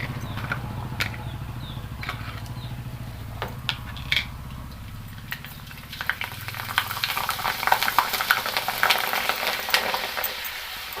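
Spinach papad frying in hot oil, a bubbling sizzle that swells and grows busier toward the end, with a few sharp clinks early on and no speech.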